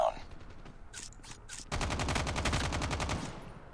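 Automated sentry gun in Call of Duty Mobile opening up in a rapid, steady burst of close, loud shots for about two seconds, preceded by quieter scattered game sounds.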